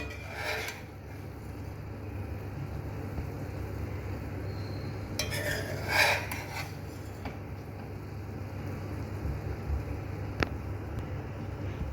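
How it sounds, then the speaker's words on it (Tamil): A spoon scrapes and stirs cooked rice with ghee in a metal pot, making soft rubbing and scraping sounds with occasional clinks against the pot, close and fairly quiet, with no talking. "இப்போ எல்லாத்தையும் நல்லா மிக்ஸ் பண்ணிக்கலாம்"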